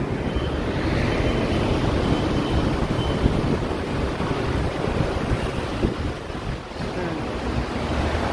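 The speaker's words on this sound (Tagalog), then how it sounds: "Lakas na hangin eh" Strong wind buffets the microphone on a seaside walk, a loud steady roar with surf washing underneath throughout.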